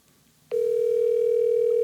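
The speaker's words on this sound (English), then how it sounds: "Oh, it's ringing." A telephone call connects with a click, then a loud, steady ringback tone drones continuously through the line.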